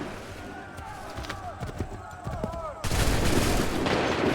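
Musket volleys crack out in Assassin's Creed III, scattered sharp shots and echoing reports amid battle noise with shouting voices, then a dense roaring burst of fire near the end.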